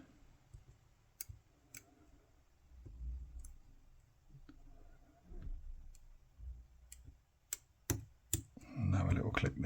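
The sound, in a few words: picking a Mul-T-Lock C16 padlock with dimple picks, clicking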